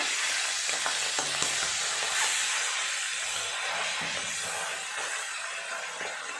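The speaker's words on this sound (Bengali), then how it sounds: "মাছগুলো এক এক করে দিয়ে ভেজে নেব" Tangra fish fry in hot oil in a pan, a dense, continuous loud sizzle and spatter with faint scraping, heard up close.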